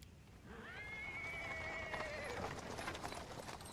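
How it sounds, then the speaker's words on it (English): A horse-drawn cart on paving stones in the fantasy video game Pathfinder: Wrath of the Righteous, a horse whinnying over a soft, continuous clatter of hooves and rolling wheels, fairly faint. "He is interrupted by the sound of wheels rolling on the paving stones. A cart drawn by a sad little horse appears round from the corner."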